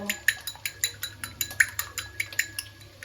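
A metal spoon stirring red chilli sauce and tomato sauce together in a bowl for egg chilli, quick regular clinks and scrapes against the bowl edge, close and fairly soft.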